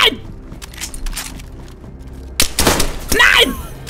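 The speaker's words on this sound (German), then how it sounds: "Ich hab nur einen Schuss gehört." Gunfire in the video game DayZ at Balota Airstrip, with a single sharp shot late in the clip followed by another burst of impact and crackle, the earlier stretch filled with softer game thumps and movement.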